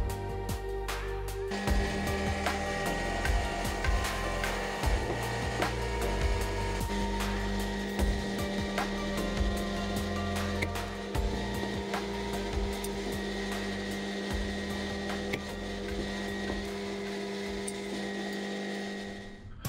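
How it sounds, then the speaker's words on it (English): A workshop hydraulic power unit drives a single-hose, spring-return hydraulic punch, giving a steady motor hum with intermittent clunks and mechanical knocks from the punch at close range. "Here's the hydraulic punch I mentioned earlier."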